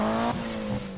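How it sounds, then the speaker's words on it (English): Mitsubishi Evo engine in the Need for Speed racing game, a loud sustained drone with a steady tone that shifts pitch partway through the second, alone without talk. "Yeah, it does sound like an Evo."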